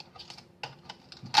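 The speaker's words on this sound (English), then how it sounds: "That tape that's got to come off." Protective tape being peeled off a new Roland SH-01A synthesizer during unboxing, heard as a few close, crisp ticks and crackles in quick bursts with short gaps between them.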